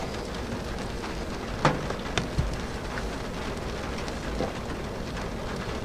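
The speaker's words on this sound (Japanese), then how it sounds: "雨降ってます" Rain falls steadily outside a tunnel in Kyoto Prefecture, a soft continuous patter with a few sharper drop hits standing out briefly against the wash.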